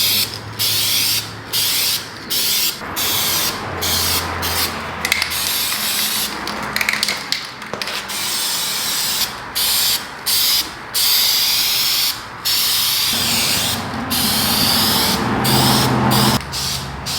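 Coats of spray paint go onto Ford F250 parts, loud hissing bursts from a spray gun repeating in short regular pulses with brief pauses between them.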